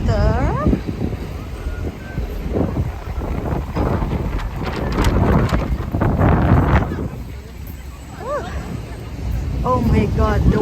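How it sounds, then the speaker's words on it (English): Strong wind buffets the microphone in gusts at a street campsite in Pasadena before the Rose Parade, rising and falling under excited voices nearby. "Oh my God, the wind"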